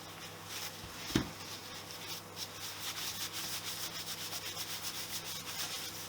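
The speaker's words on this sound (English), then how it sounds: "I'm just using Wonder Wipes to get the worst of the grime off." Motorcycle shock absorbers from a Honda XL250S are wiped down with wet wipes, giving a soft repeated rubbing rhythm at close range after a brief knock.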